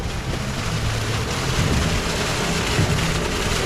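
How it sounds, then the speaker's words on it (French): Artificial waterfalls at Choco Chip Creek in Energylandia theme park: a steady, loud rush of falling water that holds evenly throughout, with a low, broad roar and no speech. "Quand les cascades tournent, c'est sympa."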